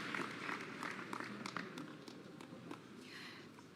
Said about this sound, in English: A better round of applause, please, for them.